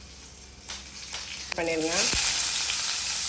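Curry leaves and green chilli hit hot oil in a pan for a mutton kuzhambu, bursting into a loud, steady sizzle after a few light clinks. A voice speaks briefly over the frying.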